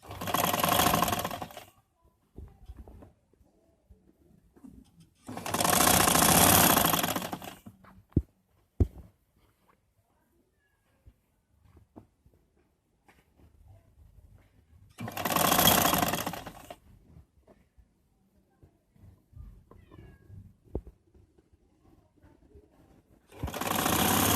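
Sewing machine stitching a lock seam on the collar of a ladies suit, running in loud bursts of a few seconds each, four times, with quiet handling noises in the pauses between runs.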